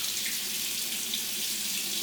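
Water runs steadily from a tap into a sink, a continuous close hiss with no pauses.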